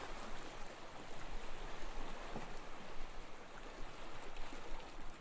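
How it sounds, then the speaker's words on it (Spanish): Sea waves roll in slowly, heard as a steady, dense wash of surf noise with no voices, evenly loud throughout. "Las olas llegan despacio"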